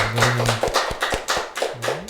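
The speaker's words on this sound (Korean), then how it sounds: "우리 하나님께 영광의 박수 올려드립니다." Church congregation clapping at a Thanksgiving Sunday service, a short burst of hand claps with a spoken voice and a held tone underneath.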